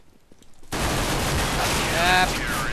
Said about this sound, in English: I'm using the Glock. It's this pistol you get.